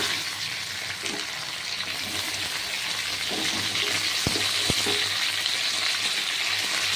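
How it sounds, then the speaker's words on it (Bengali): Potato pieces fry in a pan of oil with a continuous, even sizzle close by, broken by a couple of brief clicks from utensils, and no talking. "আলুগুলো একটু ভাজা হচ্ছে আধা ভাজা হচ্ছে"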